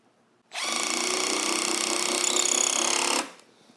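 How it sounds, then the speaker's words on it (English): A Milwaukee M12 FUEL Surge hydraulic impact driver sinks a 1 5/8-inch drywall screw into a 2x4 in one continuous, loud, close burst of about two and a half seconds, with silence before and after. "driving that 1 5/8" drywall screw into this 2x4"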